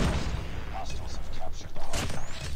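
Martyrdom grenades go off in a COD Mobile match, dull booms and thuds under a dense wash of gunfire and game noise while a player talks over it.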